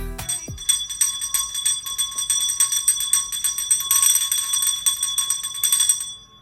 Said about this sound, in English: The ring for a beer bell right there